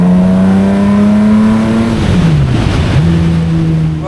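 A classic racing car accelerates hard on a track, its engine a loud close howl that climbs steadily in pitch, dips sharply around a gearchange, then pulls again at a high, even note.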